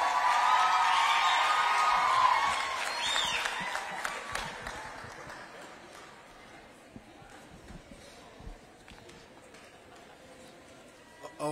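Applause from a crowd at a college graduation ceremony in Nairobi, strongest at the start and fading over several seconds, with some scattered cheers and a speaking voice continuing underneath.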